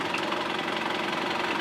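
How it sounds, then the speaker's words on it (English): A sailboat's engine runs steadily after its fuel supply is restored, a close, even idling chug with a low knock and no talk over it. "We got an engine that works."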